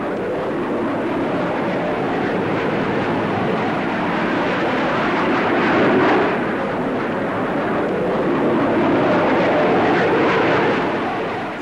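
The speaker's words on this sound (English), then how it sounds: "Finally, to round off this great show, the Hawker Hunter." A Hawker Hunter F4 jet fighter passes at an air show, a broad continuous roar that swells toward the middle and then eases, steady and fairly loud with no voices.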